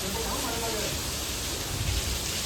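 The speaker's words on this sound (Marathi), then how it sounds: "पाऊस आलं आहे बघू शकता" Rain falling outdoors, a dense steady hiss of broadband noise throughout, close and fairly loud, with no clear voice over it.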